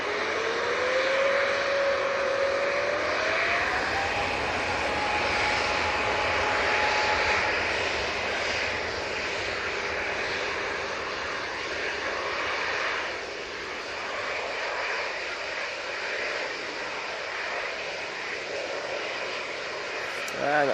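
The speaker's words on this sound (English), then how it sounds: "There's another Ryanair coming over as well." A Ryanair aircraft passes over Manchester Airport, a sustained engine roar with a rising whine early on that eases off near the middle, then continues more quietly before a sharp noise at the very end.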